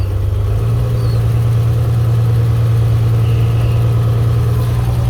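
A campaign bus engine runs with a loud, steady low hum and whir close by, unchanging throughout.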